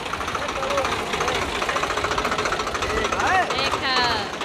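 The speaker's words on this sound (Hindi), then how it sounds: "लल्ला चलाए रहा ट्रैक्टर" A tractor engine runs close by with a loud, steady, rhythmic knocking chug, and voices can be heard over it toward the end.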